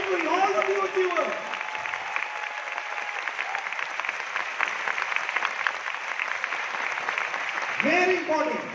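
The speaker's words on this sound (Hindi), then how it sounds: "एक बार जोरदार तालियां हमारे सारे न्यू अचीवर्स के लिए" Loud, sustained audience applause at an award function in Meerut, steady clapping filling the hall for several seconds, with a voice speaking over it at the start and end.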